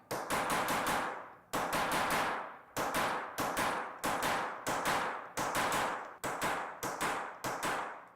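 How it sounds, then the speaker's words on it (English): Brass punch struck repeatedly with a hammer onto foil in a studio, a series of sharp metallic clangs in quick bursts of several blows, close and loud with short pauses between groups. "I take a brass punch and press it firmly onto the foil and start to hammer it."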